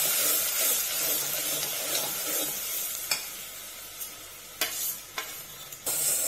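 Ground masala for misal fries in a pan with a continuous sizzle while a spoon stirs it, adding several sharp scrapes and taps against the pan near the end.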